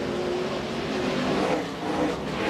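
K&N Pro Series stock cars racing at Infineon Raceway, a steady, dense engine roar that swells slightly and holds throughout, with no talk over it.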